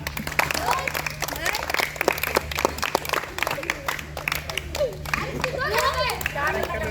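Children applaud during a balloon game, a dense rapid patter of claps heard under excited kids' voices and crowd chatter, with talking rising toward the end.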